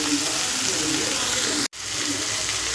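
Dried prawns frying in a pan give a steady, close hiss and crackle of hot oil that runs almost unbroken, with one brief cut to silence partway through.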